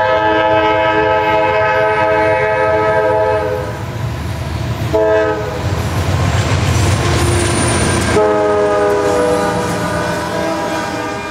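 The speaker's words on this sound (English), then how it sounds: "Q126, Jacksonville to Memphis Intermodal, blow through here all day and all night." The CSX Q126 intermodal freight train from Jacksonville to Memphis passes close and loud, its horn blaring in long sustained blasts over the heavy rumble and clatter of the cars.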